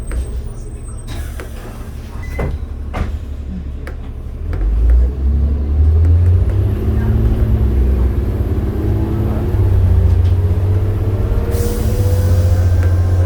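Diesel engine of a 2006 New Flyer D40LF transit bus heard from inside while riding, a steady low rumble that swells as the bus accelerates, with cabin rattles and a faint high whine near the end.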